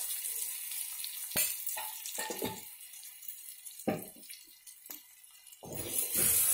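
Spiced taro root curry stirred in a pan, with wet sizzling and scraping bursts coming in uneven strokes against quieter gaps, close and moderately loud.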